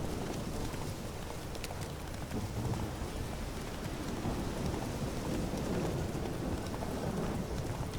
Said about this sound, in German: Scheiß Regen.